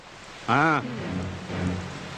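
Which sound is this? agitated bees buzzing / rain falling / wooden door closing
rain falling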